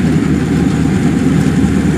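A Yamaha 4T100 engine drives a homemade Vietnamese tracked rice harvester on 105X crawler chains while cutting rice. It gives a loud, steady, low rumbling drone that holds unbroken throughout, with no talk.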